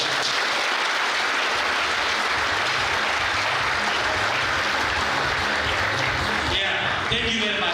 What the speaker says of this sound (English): I want to hear a round of applause from our students